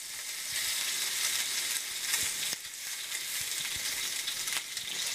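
Bacon sizzling in a frying pan, a continuous crackling hiss with scattered pops and small scraping taps from flipping, steady and close.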